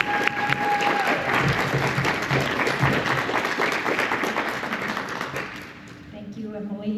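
Applause from a gallery audience at the Hickory Museum of Art in North Carolina, welcoming an artist to speak; steady dense clapping fills the room for several seconds, with a person starting to talk as it tapers off at the end.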